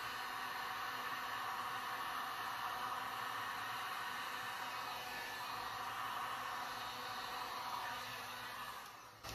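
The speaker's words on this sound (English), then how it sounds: "So now I'm just gonna use the heat gun and push it up." A heat gun blows hot air in a continuous loud, even whoosh that runs steadily from start to finish, dipping slightly only at the very end.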